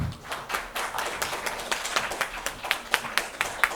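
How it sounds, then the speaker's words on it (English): An audience at a panel discussion applauds, a moderate spread of hand claps that settles into a sparser, rhythmic patter of individual claps toward the end. "Please give them a bigger round of applause."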